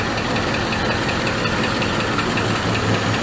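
A 1973 Ford Torino Sport fires up for its first start and runs loud and close, a dense, rough, slightly knocking idle churning steadily throughout.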